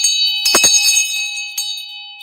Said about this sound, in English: that's a double bell